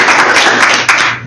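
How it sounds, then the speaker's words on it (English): Audience clapping at a university workshop round table: a loud, continuous wash of applause filling the room, steady throughout with a couple of sharper claps near the end, no speech. "we can record the clapping"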